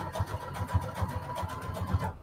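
A sewing machine stitches lace onto a book page in a rapid, even chugging rhythm, fairly quiet and close, running without pause until it stops at the end.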